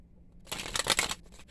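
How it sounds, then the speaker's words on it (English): A brief, close riffle of playing cards being shuffled, a quick papery flutter lasting under a second in an otherwise quiet room. "One more shuffle."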